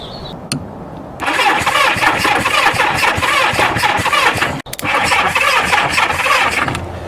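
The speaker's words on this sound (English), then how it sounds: "I'm just going to try and fire up the bike, get the engine turning over, and see if I've got a spark" A Kawasaki Z650B motorcycle engine cranks over on the starter in a fast, rhythmic churn without catching, close and loud, broken by one brief pause before cranking resumes.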